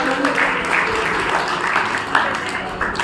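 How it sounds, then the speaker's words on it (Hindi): Audience clapping at a Brahma Kumaris gathering as a guest is called onto the stage, a steady dense patter with a few sharper claps, moderately loud and continuous with a faint murmur of voices. "तालियां कौन बजाएगा?"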